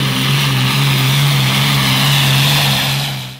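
A 5,800-pound modified pulling tractor with a blown Chevy big-block engine drones loudly and steadily at close range, a strong low rumble with whining overtones holding for several seconds before fading out at the end.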